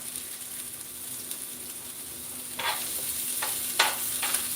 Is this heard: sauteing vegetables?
yes